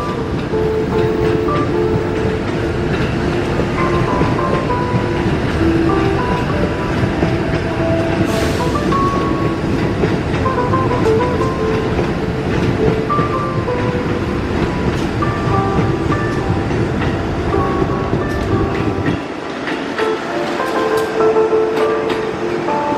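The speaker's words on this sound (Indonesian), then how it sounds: "Ini ada KRL 6032 masuk stasiun Bogor." An electric commuter train rumbles loudly and steadily close by as it enters Bogor station, with rhythmic clatter, metallic screeches and a brief high squeal, the low roar dropping away near the end.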